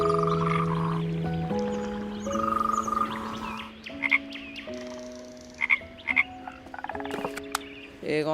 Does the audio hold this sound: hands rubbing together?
no